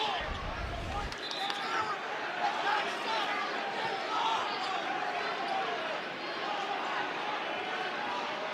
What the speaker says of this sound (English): And the crowd is making sure